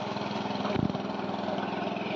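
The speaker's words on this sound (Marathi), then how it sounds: "ट्रॅक्टर फिरवता" A tractor running in a muddy Konkan paddy field, a steady droning engine with a throbbing pulse and a brief louder rumble near the middle, heard close and without talk.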